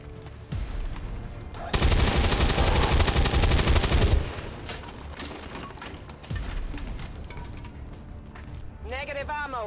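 In XCOM 2, a loud, rapid burst of automatic gunfire rattles for about two seconds while a soldier fires at a propane tank, with speech and game sounds before and after.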